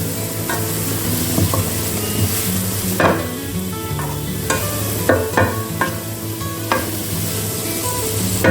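Onions softening in a pan for homemade chicken cutlets, a steady close sizzle with repeated scraping stirs of a spatula clattering against the metal throughout, no talking.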